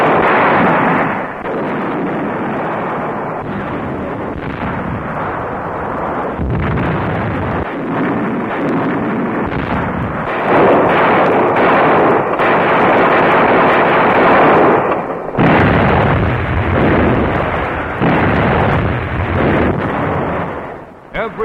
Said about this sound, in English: Everything known to modern naval science went into the annihilating bombardment of the targets in the Okinawa operation.